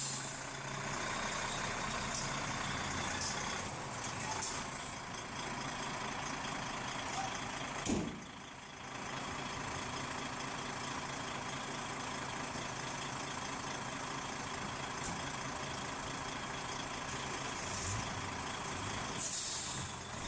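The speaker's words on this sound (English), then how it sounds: "transported by lorry through the town's narrow high street" A heavy haulage lorry grinds slowly through a narrow town high street, its engine rumbling steadily with hissing air brake releases and a brief dip midway, heard at moderate distance.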